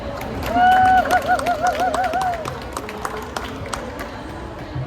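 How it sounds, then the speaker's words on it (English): An audience at a youth climate event at COP30 applauds the HBCU Green Fund, with scattered clapping under a rising, sustained vocal whoop or cheer near the start that fades as the clapping thins. "I would like you to put your hands together so that we clap for HBCU Green Fund"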